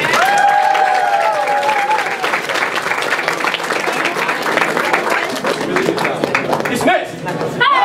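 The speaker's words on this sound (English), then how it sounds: "Everybody cheer." An audience at a university Korean culture night cheers and applauds after a taekwondo performance, producing a dense, sustained roar of clapping with whoops and shouts, and a voice briefly cuts in near the end.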